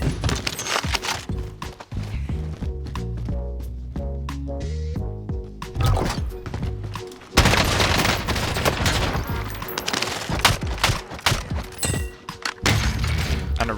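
Heavy gunfire fills a Call of Duty Warzone battle: dense automatic bursts, single cracks and thuds pile up loudly and continuously, with shattering hits mixed in and no talking.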